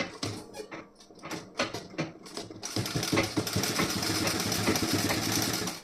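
Sewing machine stitching the front part of a blouse: short rhythmic bursts of rapid needle clatter at first, then a continuous fast mechanical whir at close range.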